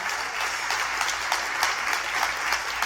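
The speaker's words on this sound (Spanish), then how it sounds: "Dar un aplauso a Dios si lo recibe." A church congregation claps together at a Spanish-language sermon, a short burst of dense, even applause heard from within the room, steady and moderately loud for a few seconds.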